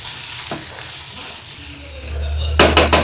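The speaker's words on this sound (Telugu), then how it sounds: "ఇప్పుడు మొత్తం ఫ్రై చేసుకుందాం, మిక్స్ చేసేసుకుందాం" Cabbage is stir-fried in a pan with a continuous crackling sizzle and scraping stirs, growing louder and busier toward the end.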